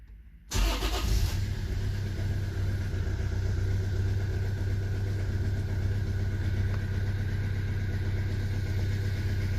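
A Toyota 1.4 D4D diesel engine cranks and catches with a loud burst on its first start after an oil change, then settles into a steady, clattering idle that continues evenly without any voices.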